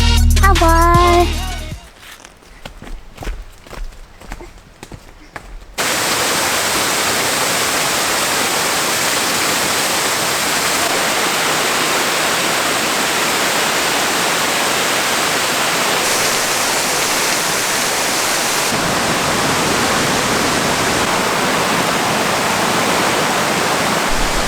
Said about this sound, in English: Do you like the waterfall